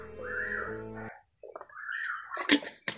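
A crow caws overhead as it flies past, a few harsh calls mixed with other bird chirps, fairly close and clear over a low background hum.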